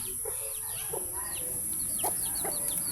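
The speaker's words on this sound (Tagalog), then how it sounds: "At ang dami ding manok, guys, sa paligid." Chickens cluck and chirp around a rural yard, several short calls scattered over three seconds at moderate distance over a steady background hum, with no talking.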